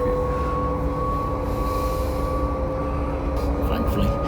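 A train heading to Stowmarket rumbles steadily from inside a carriage, a continuous low roar with a sustained tonal hum, holding an even, close loudness throughout.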